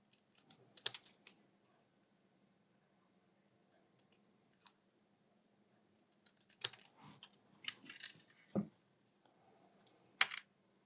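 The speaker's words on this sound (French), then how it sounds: "Les paires de ciseaux, c'est génial." Scissors snip through paper while crafting festive napkin rings, a few sharp, crisp cuts spaced apart with small rustling and handling sounds between, close and fairly quiet.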